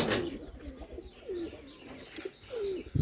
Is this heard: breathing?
no